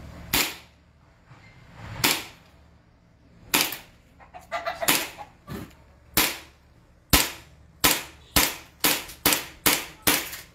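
Sniper-style airsoft or pellet rifle fired at a post in Taytay, Rizal, with a string of sharp, snappy cracks that start widely spaced and then come quickly in a steady series, close and loud.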